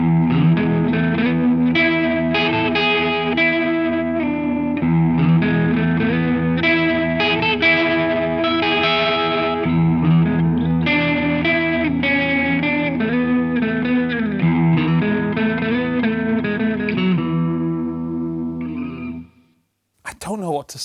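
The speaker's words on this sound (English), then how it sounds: "I do, however, think it is a great chorus." Electric guitar played through a chorus pedal, full strummed chords and melodic lines with a shimmering, wavering doubled tone, loud and sustained before stopping abruptly near the end, followed by a brief burst of talking.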